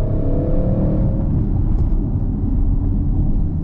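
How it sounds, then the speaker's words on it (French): Audi RS6 accelerating hard with its turbos spooling, a dense, loud low roar and whoosh filling the cabin, a brief rising tone at the start fading into steady rumble. "T'entends les turbos?"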